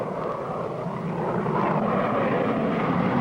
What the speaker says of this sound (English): I see Hatchett's plane now.